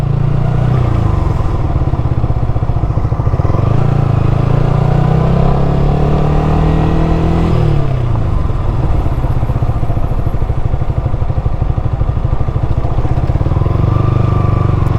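Motorcycle or small vehicle engine running steadily while driving through the streets of Pattaya, Thailand, a continuous loud engine drone with gear shifts and rising and falling revs.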